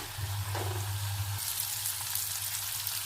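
Turmeric being stirred into a tomato mixture cooking in a pan, a steady frying sizzle with a scraping stir at the start, the sizzle brightening and hissing louder partway through.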